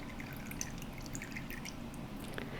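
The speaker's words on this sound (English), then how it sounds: "I'll pour the excess off into a waste cup." Excess water poured off wet-packed enamel into a waste cup, producing a continuous light trickle with scattered drips and small splashes, close and fairly quiet, with no voices.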